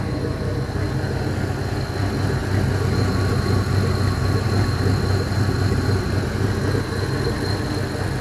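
An LS engine with its PCM and harness idles steadily with a quiet power steering pump, giving a continuous low, even rumble and a faint whine, close and unbroken throughout.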